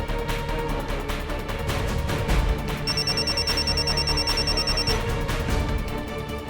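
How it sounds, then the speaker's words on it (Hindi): A telephone rings unanswered in a household drama scene, a steady high electronic trill lasting about two seconds, partly masked by a dense, loud background music score. "भाई का फोन क्यों नहीं उठा रहे भाई यार?"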